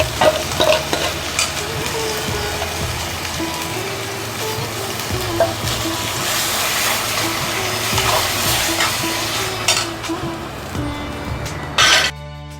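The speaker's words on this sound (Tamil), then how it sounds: "இஞ்சி பூண்டு வதங்கின உடனே தக்காளி அரைச்சி வச்சிருக்க தக்காளியை ஊற்றிடுவோம்." Ground tomato poured over sautéed ginger and garlic for chana masala sizzles loudly in the pan, with scraping stirs and occasional clatters over a constant frying hiss.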